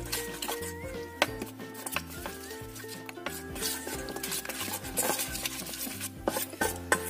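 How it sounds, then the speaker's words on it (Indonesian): Spiced fritter batter stirred in a bowl for tempeh gorengan, a steady run of soft scraping and clinking utensil strokes, fairly close, with faint background music and no talk. "Aduk sampai bumbunya ini tercampur dengan baik."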